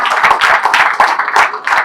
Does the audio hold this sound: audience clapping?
yes